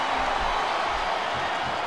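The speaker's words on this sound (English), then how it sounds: "listen to that chant, Taz." A steady arena crowd roar and chant fills the air in the wrestling video game WWE SmackDown vs. Raw 2007 during a last man standing match, continuous and loud.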